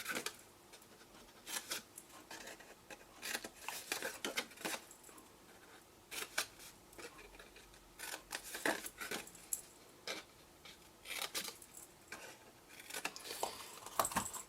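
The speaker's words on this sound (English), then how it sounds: "We just need to cut those out completely" Scissors snipping small paper squares for a papercraft treat pouch, a quiet, close series of irregular crisp snips and rustles with brief pauses between cuts.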